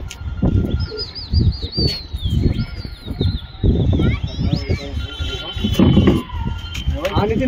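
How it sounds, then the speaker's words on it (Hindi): Pigeons flap their wings in flight over rooftops with occasional chirpy whistles, under someone talking nearby, during pigeon flying in Amroha. "और ऊपर परवेज भाई कबूतर उड़ा रहे हैं।"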